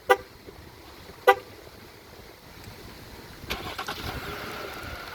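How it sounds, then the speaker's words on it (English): A 2025 Chrysler Pacifica Select started by remote start: two short horn toots a second apart, then the engine turns over and settles into a steady low idle, heard from a short distance. "remote start. Love the remote start."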